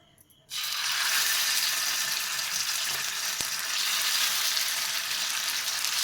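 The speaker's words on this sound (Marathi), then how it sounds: "उरलेले रोल मी तव्यावर शालो फ्राय करून घेणार आहे" Cabbage rolls start shallow frying in oil on a tawa, a loud, dense sizzle bursting in after a quiet moment and holding steady, with a faint clink partway through, close up and without voices.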